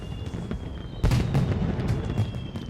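Crackling bursts and booms of video game fireworks in Yakuza: Like a Dragon pop continuously, with a sharper, louder burst partway through, all dense and noisy with no talking.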